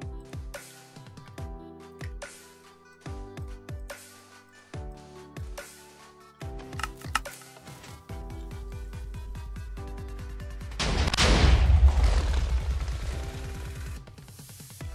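TNT cannon shots during a Minecraft Factions raid, a run of evenly spaced thuds over steady background music, then a long roaring blast that swells and fades out.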